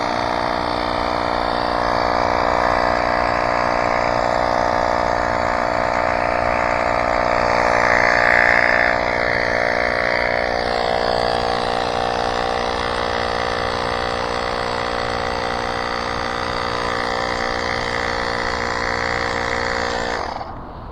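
A small rechargeable electric pump runs steadily for about twenty seconds while inflating the front inner tube of a modified dual hub motor e-bike, giving a loud, continuous motor drone with a steady buzzing hum that cuts off abruptly at the end.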